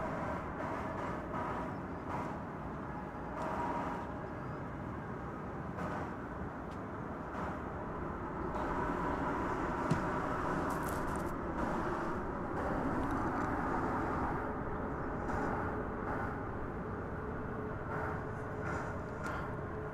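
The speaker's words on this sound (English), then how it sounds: "Coming in on runway 18 right from Lake Charles, Louisiana, is this American Eagle CRJ 701ER" An American Eagle CRJ 701ER regional jet lands on runway 18 right at Dallas Fort Worth airport, a steady, broad engine roar heard from a distance, holding level for the whole stretch.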